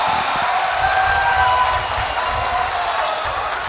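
A large crowd at an outdoor political rally in Amravati breaks into loud, sustained applause and cheering, a dense roar of clapping holding steady without pause, with a few whistles cutting through.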